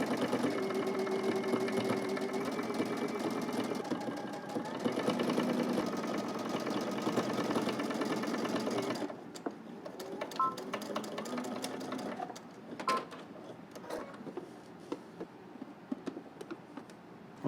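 A home sewing machine stitching in the ditch along the center seam of a cardigan, a fast steady mechanical whirring for about nine seconds, then stopping with scattered handling clicks and quieter noises.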